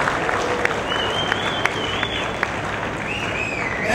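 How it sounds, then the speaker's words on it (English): A round of applause from the audience at a launch event in Australia, steady and dense throughout with a few sharper individual claps standing out. "Please give a round of applause."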